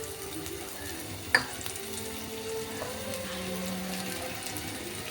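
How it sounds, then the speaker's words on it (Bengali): Potatoes fry in hot oil, a steady low sizzle with a single sharp pop early on and a faint hum of cooking behind it. They go in with a mustard-paste paneer dish that also has drumsticks, and no one speaks. "তেল গরম হয়ে গেছে, এরপর এতে দিব আমি আলুগুলো দিয়ে দিচ্ছি।"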